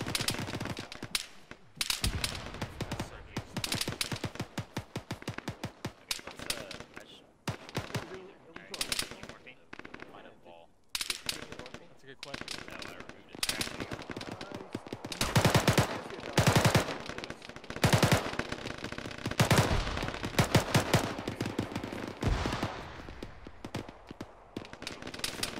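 Dense bursts of machine-gun and rifle fire from a ShackTac Arma battle in a town, cracking near and far in rapid volleys for the whole stretch, with voices shouting between shots.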